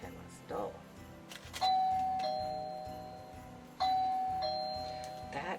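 Two bright door chimes ring out a few seconds apart, each a sustained ding-dong tone signalling a parcel delivery, heard over ongoing talk in a home quilting room.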